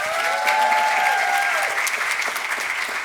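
Sustained applause from a conference audience at an equity and inclusion session on blood donation, a dense, steady wash of clapping throughout, with a faint tonal hum fading underneath.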